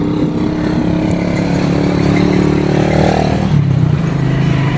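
Motorcycles and tricycles pass on a road nearby, a continuous loud engine drone with revving swells and rattling clatter shifting over the whole stretch.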